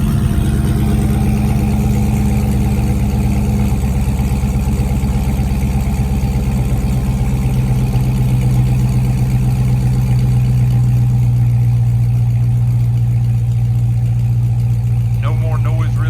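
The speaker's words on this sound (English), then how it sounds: "Still has the stock exhaust valve, stock mid muffler, stock rear muffler, just a cat delete." A Dodge Scat Pack SRT with a cat delete and otherwise stock exhaust valve, mid muffler and rear muffler idles in a steady, loud, low rumble that holds throughout.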